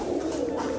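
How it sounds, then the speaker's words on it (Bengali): Pigeons released from a loft on a rainy day coo in a low, throaty, continuous burble close by, a short steady murmur of several birds. "পায়রাগুলো কিন্তু এখন সব ছাড়া আছে দেখুন।"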